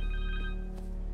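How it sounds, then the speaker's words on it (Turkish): Connors' cell phone ringing in Marvel's Spider-Man 2, a short warbling electronic ringtone, clear and steady over a low game-ambience hum, no talking. "Connor's cell phone."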